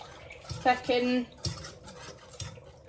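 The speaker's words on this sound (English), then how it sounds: "move on to a whisk and whisk all that in, just to get rid of any of the lumps" A metal whisk works through a thickening milk sauce in a pan for lasagne, giving a few close scraping strokes with a squeaky, tonal rasp and light metallic clinks, then quieter scraping; no one talks.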